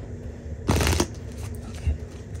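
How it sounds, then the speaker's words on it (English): A deck of cards being shuffled up close, a quick riffle burst followed by softer card handling, with faint background murmur and no clear speech. "Okay, that was a good shuffle."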